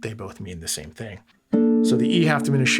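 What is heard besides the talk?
No everyday noises stand out.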